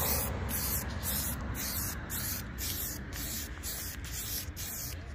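A spray paint can spraying gold paint onto a PlayStation 5 in a long continuous hiss, briefly broken by short, regular pauses, close and steady throughout.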